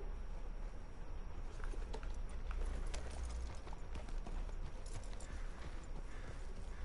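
Horse hooves clip-clopping in Red Dead Redemption 2, a quick, steady run of hoofbeats close by at moderate level, continuing without a break, with no talk over it.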